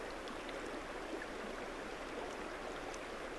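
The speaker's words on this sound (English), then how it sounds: "The water, the sound of the water." River water flowing steadily near Sedona, Arizona, a soft even rushing hiss that stays constant and fairly faint with no voices.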